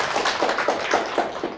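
Clapping in a lecture hall comes as a steady series of about seven evenly spaced claps, moderately loud and close.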